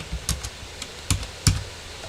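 Several separate key presses on a computer keyboard tap out close and fairly quiet, spaced unevenly over a couple of seconds.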